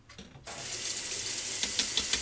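Running tap water splashes steadily into a bathroom sink as a razor is rinsed under the stream, a continuous close hiss with a few brief splashy bursts near the end.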